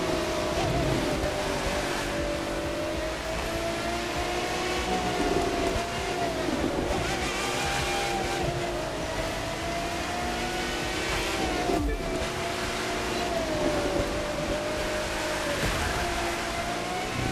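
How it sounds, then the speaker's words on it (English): A Pagani Zonda R racing in The Crew 2, a continuous engine roar that rises and falls with shifts and speed changes, loud throughout with a strong tonal drone and no talk. "So I'll let you hear the sound of the car."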